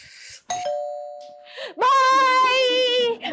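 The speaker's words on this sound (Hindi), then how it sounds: "दरवाजे पर बेल बज रही है" A doorbell rings out clearly: a short electronic chime, then a longer warbling melodic tone, with quiet gaps around it and no talking.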